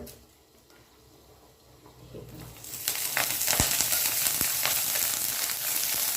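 Green chillies roast in a pan for Maharashtrian thecha. The pan is quiet at first, then oil goes in and a strong, crackling sizzle takes over and holds steadily to the end.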